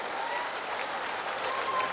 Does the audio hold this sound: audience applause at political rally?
yes